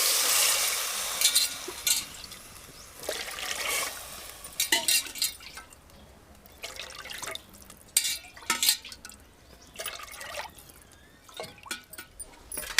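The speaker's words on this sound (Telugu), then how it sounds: "ఇప్పుడు మనం 2 గ్లాసుల బియ్యానికి 4 గ్లాసుల నీళ్ళు పోసుకుందాం." Water is poured into a cooking pot for rice in a home kitchen, coming in splashy bursts with short pauses, near and fairly loud, alongside faint clinks and stirring.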